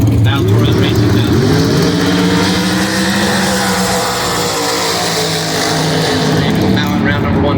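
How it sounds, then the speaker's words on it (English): A dragster roars down a drag strip at a Las Vegas racing event, a loud, dense engine blast that shifts in pitch as it accelerates away, with a race announcer talking over it. "Val Torres racing down."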